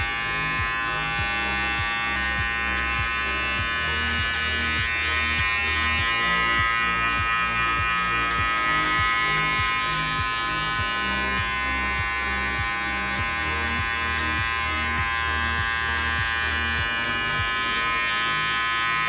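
Electric hair clippers fitted with a 0.5 guard buzz steadily and close during a self haircut, a continuous even drone with slight variation as they move through hair.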